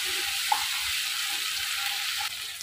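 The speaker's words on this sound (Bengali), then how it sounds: "পেঁয়াজ, রসুন, আদা আর জিরের গুঁড়ো। তো এটাকে বেশ কিছুক্ষণ ধরে কষিয়ে নিতে হবে।" A paste of onion, garlic, ginger and ground cumin sautés in a pan, crackling with a steady close sizzle and a few light spoon clinks, with the sound easing slightly near the end.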